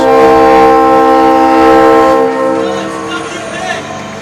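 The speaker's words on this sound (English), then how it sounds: "Why even compete with a train whistle?" A loud, sustained train whistle blares with rich harmonic tones at a boys' ice hockey game in an arena, then fades somewhat and trails off into lingering echo.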